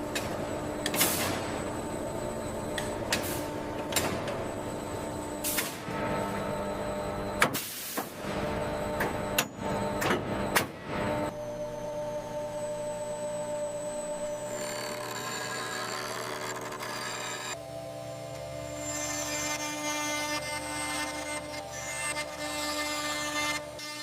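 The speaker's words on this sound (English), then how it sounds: "Advanced 5-axis robotic CNC machines take over." A 5-axis robotic CNC machine carves eco-ivory chess pieces. The first half brings sharp, irregular clicks and bursts of cutting, and the second half settles into a steady, layered mechanical whine and hum.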